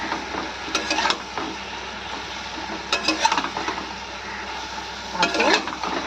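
Eggplant lightly frying in a pan with a soft continuous sizzle, punctuated by three bursts of spatula scraping and stirring against the metal, heard up close without speech.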